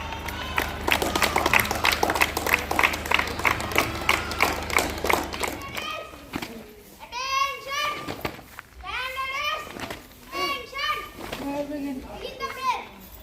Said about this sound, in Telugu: క్లాప్స్ కొడండి మీరు మామూలుగా.